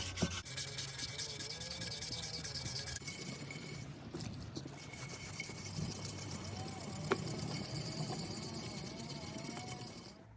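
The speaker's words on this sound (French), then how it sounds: "Ponçage time." Wheel rims from a Ford P100 pickup being sanded, a steady abrasive rubbing hiss that runs continuously for about ten seconds at moderate level, with a brief lull partway and a sharp tap near the end.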